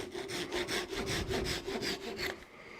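A hand saw cuts through ash wood on a turned nut bowl with quick, even back-and-forth strokes, close and loud, about nine strokes before it stops.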